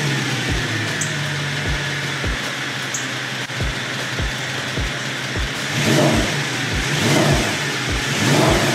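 A Mercedes-Benz M156 V8 with a newly installed driver's-side cam adjuster cranks and fires, then idles with a steady rhythmic pulse before a few revs swell louder near the end, close and with no talking.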